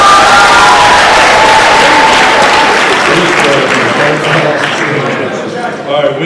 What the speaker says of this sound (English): Let's give Winston another round of applause.